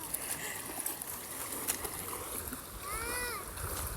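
Water splashes and sloshes as people wade across a river, a scattered rough churning at moderate distance with children's voices and chatter rising over it briefly.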